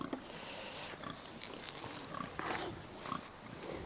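Pigs on pasture beside a temporary electric fence, with scattered grunts and snorts at close range over a steady outdoor background.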